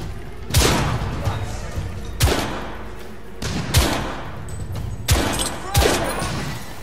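Grenade blasts and gunfire in The Order 1886, a shooter game: several heavy booming explosions land at irregular intervals, loud and close, with a voice speaking between them.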